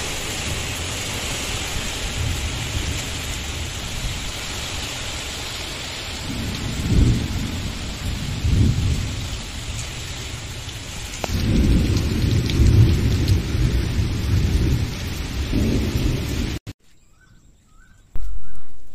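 Heavy rain pours steadily with deep rolling thunder rumbling through it, swelling louder partway before cutting to near silence at the end.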